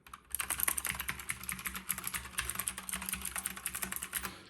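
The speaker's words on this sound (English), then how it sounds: "So I love the noise of this keyboard" Rapid clacking of a mechanical keyboard, keys struck in quick irregular bursts, close and crisp, with no talking.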